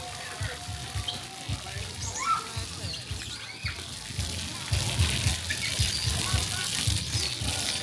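Water sprays and splashes continuously at a splash pad area on CocoCay in the Bahamas, with birds chirping and people talking over it.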